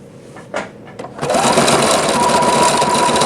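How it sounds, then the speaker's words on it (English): A Juki HZL-F300 sewing machine stitching metallic thread: a couple of soft clicks, then a sudden start into a fast, steady full-speed whir and clatter with a thin high whine, close up and without speech. "I'll be sewing full speed."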